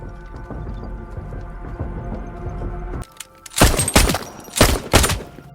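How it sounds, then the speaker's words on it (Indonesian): Gunfire from a shootout scene in the action film The Contractor: a low droning score gives way to several loud, sharp bursts of shots, close and separated by short pauses. "lalu ia beradu tembak dengan Rusty yang ternyata berada di depan"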